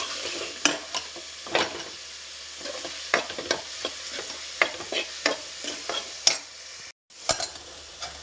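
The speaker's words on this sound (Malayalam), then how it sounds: "അതിലേക്ക് ആ സബോളയൊന്ന് വരണ്ട് വരാൻ വേണ്ടി ഒരു 1/4 ടീസ്പൂൺ ഉപ്പിട്ട് കൊടുത്തിട്ടുണ്ട്." Onion sizzles in a pan with a pinch of salt, a continuous frying hiss punctuated by repeated clinks and scrapes as it is stirred, close and clear with no talking.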